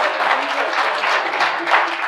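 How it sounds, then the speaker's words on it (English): An audience at a Steve McQueen car rally keynote gives a round of applause for the Mustang drivers, brisk, dense clapping that holds steady throughout. "They need a round of applause"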